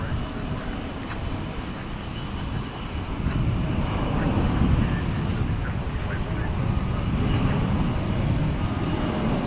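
Airliners at Dallas Fort Worth International Airport, a Boeing 787 Dreamliner and an A321 in Allegheny retro livery, produce a steady broad jet roar that swells slightly midway and holds, heard from a distance outdoors.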